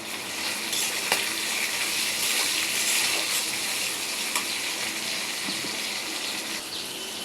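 Hilsa fish head frying in hot oil in a pan, a steady close hiss of sizzling throughout, with a few faint scrapes and clinks, no voices.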